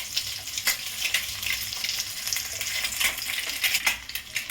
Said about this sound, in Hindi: मीडियम फ्लेम पर मैं फ्राई कर रही हूँ।